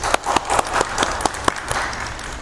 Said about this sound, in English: Please join me in a round of applause for Mark Murchison and Cindy Gillis.